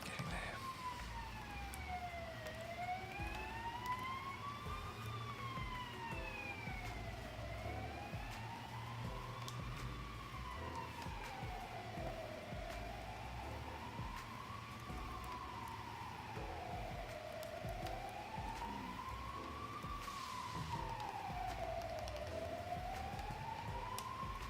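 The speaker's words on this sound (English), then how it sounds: "Can you guys hear the sirens in the background?" Faint sirens wail in the background, a slow rising-and-falling tone that repeats steadily for the whole stretch beneath a low room hum.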